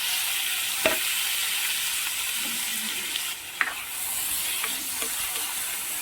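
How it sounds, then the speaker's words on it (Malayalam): Onions and curry leaves frying in oil for a drumstick masala curry, with tomatoes being added: a steady, close sizzle and hiss with a few soft stirring clicks and no talking. "ഉള്ളി ഒന്ന് മൂത്ത് വന്നിട്ട് നമുക്ക് അതിലോട്ട് ഈ തക്കാളിയും കൂടി ഒന്ന് ചേർത്ത് കൊടുക്കാം"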